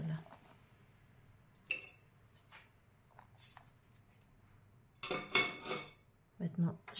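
A marbled Easter cake is turned out of its metal pan: scattered clinks and a clattering knock of the tin against a surface, with a quiet voice in the background.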